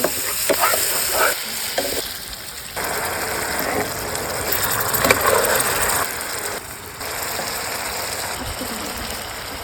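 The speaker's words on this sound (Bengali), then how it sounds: "একটা টমেটো পেস্ট দিয়ে দিচ্ছি মশলাটাকে কষিয়ে নিচ্ছি" Spice masala with tomato paste frying in a pan makes a steady sizzle broken by repeated scraping and stirring strokes, with brief pauses and changes in intensity, close and moderately loud.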